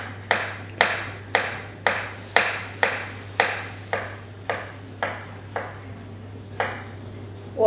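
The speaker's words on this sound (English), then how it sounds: "Watch your fingers when you chop the garlic because it's very sharp knife." Sharp knife chopping garlic on a cutting board while preparing chorizo carbonara, a steady series of about a dozen crisp, close knocks at even intervals, slowly fading, over a constant low kitchen hum.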